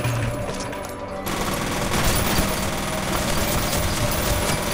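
Gunfire in the shooter F.E.A.R. Extraction Point: dense, continuous automatic fire and battle din, loud and close throughout without a break.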